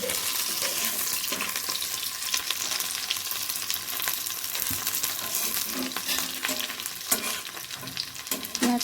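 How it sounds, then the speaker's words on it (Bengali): Onions fry in a pan for a lentil dal, a continuous sizzling crackle broken by frequent spatula scrapes and stirring knocks, close and fairly loud with no talk. "পেঁয়াজটা আমার ভালো করে ভাজা হয়ে গেছে"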